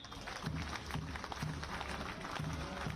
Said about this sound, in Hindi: तालियों से इस ब्लैक कैट कमांडो रैली का स्वागत करें